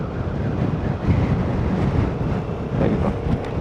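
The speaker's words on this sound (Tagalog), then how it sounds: "Asang hangin dito." Strong mountain wind near a landslide on a highland road in the Philippines buffets the microphone with a loud, continuous low roar and rumble, rising in gusts, with no one speaking.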